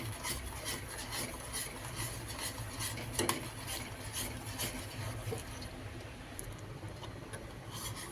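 Cornflour mixture being stirred into milk in a pot, a steady scraping and swishing of a utensil against the pot that continues evenly throughout with no talk.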